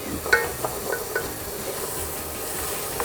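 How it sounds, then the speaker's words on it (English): Metal utensil scraping and stirring across a skillet bottom as onions sauté, a few scattered scrapes over a steady low sizzle, close and fairly quiet. "make sure you scrape all those little bits of goodness, fond as we call it, off the bottom of the skillet"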